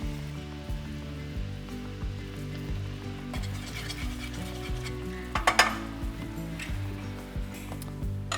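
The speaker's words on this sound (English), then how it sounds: "we're just going to let those cook till they tenderize and they're a little bit caramelized as well" Plums cooking and caramelizing in syrup in a pan give a steady soft sizzle and bubbling, with a brief cluster of louder clinks partway through and no talking.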